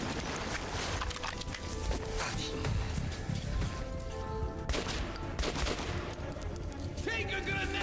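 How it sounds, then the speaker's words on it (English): Automatic gunfire in a close firefight in the game Metro 2033 Redux, rapid bursts running almost without pause through dense, loud combat noise, with a voice speaking faintly underneath. "where is that other guy shooting me from?"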